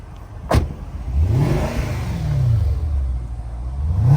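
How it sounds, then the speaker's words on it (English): A 2007 Mercedes-Benz SL550 V8 revs up in one rising, then falling sweep, with a sharp click or clunk just before it. The engine is close, steady and loud, with no talk over it. "Rev it up a little bit."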